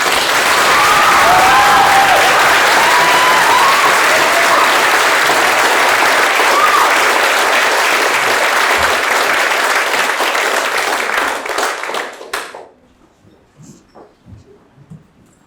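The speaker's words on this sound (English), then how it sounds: "Another round of applause for these." Audience applause at a graduation ceremony: a loud, dense, steady clapping that carries on for about twelve seconds, then thins out and stops, leaving a few scattered claps.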